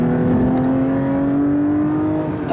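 A Porsche 992 GT3 engine pulls steadily while driving, a loud, continuous tonal drone that climbs gently in pitch through the whole stretch, with no talking over it.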